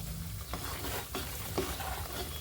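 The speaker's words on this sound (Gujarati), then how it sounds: "બધો લોટ એમાં ધીરે ધીરે નાખવાનો, એટલે લોટ એકદમ પાકી જાય અડદિયાનો" Flour for adadiya sweets is stirred and roasted in ghee in a pan, giving a soft, steady sizzle with a few scraping strokes of the spoon at intervals, close by and with no voices.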